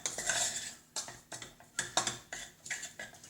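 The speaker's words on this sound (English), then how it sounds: "I'm just mixing the ingredients and putting it together. Combine it really well." Crushed biscuits are stirred into melted butter in a bowl for a cheesecake base, giving close, rhythmic scraping and clinking strokes of a utensil against the bowl, heard alone.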